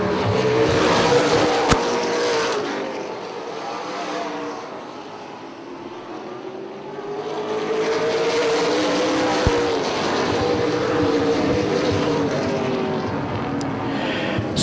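Late model race cars roar around an oval track during a 100-lap feature, engines rising and falling in pitch as the pack passes, loud near the start, dipping briefly, then swelling again as they come back around.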